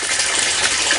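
Water gushes steadily through a gold sluice box lined with a silicone mat while beach sand is fed in, a dense, even hiss of flowing water heard close and continuous throughout.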